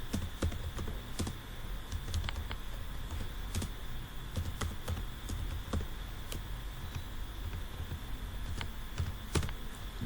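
Steady, irregular clicking of keys as C code is typed on a computer keyboard, close and moderately loud over a low room hum, with no talking.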